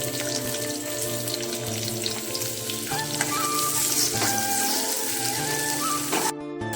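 Onions and garlic sizzle and fry steadily in a hot pan for a Kerala-style chicken fry, a dense continuous crackle with brief stirring sounds and no talking.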